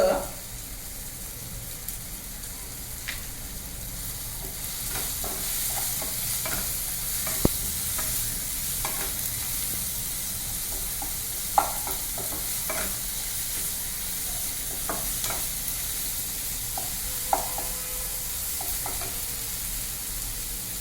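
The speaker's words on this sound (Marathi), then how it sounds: "आपण फ्राय करून घेणार आहे." Chillies and asafoetida frying in hot oil in a pan, a steady close sizzle with scattered small pops and occasional sharp clicks of a utensil throughout.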